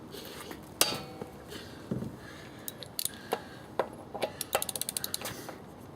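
A wrench working loose wheel lug nuts that were tightened with a torque wrench, giving faint metallic clicks and ratcheting ticks that speed up into a quick series toward the end.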